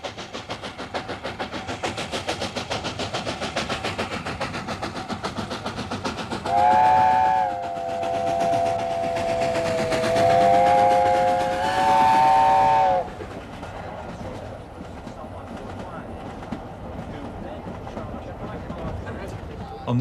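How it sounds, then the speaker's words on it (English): Preserved steam locomotive Sir Nigel Gresley hauling an excursion train, its loud steady whistle sounding for several seconds over continuous rolling rail clatter and chuffing. "steam excursions, as pulled by the well-preserved Sir Nigel Gresley, do make money"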